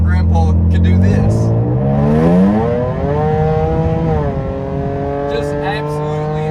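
A supercharged Jaguar XE 35T R-Sport sedan with 54,000 miles accelerating hard, its engine note climbing through the gears with a brief shift dip, loud and close from inside the car.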